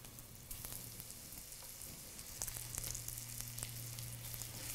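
Shrimp frying in garlic butter in a pan, a soft steady sizzle with scattered pops and crackles that rise a little midway, under a faint low hum and with no talking.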